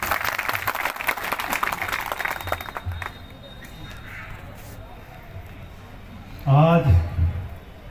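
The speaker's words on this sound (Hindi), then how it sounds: "जोरदार तालियां बजा के स्वागत करें" A crowd claps to welcome a Congress politician at a Diwali gathering in Sangam Vihar, Delhi, with brief clapping at the start that fades out, followed by a short burst of a voice later.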